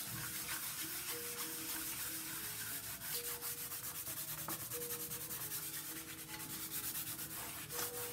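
A violin fingerboard is polished with fine 5,000-grit paper, producing a soft continuous rubbing and scratching with quick back-and-forth strokes, close and quiet, with no talk.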